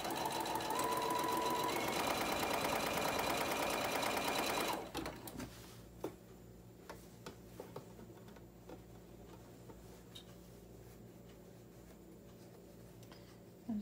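A home sewing machine stitches the final seam of a Christmas pillowcase, a loud steady whirring burst for several seconds that stops abruptly, followed by quiet fabric handling and small clicks.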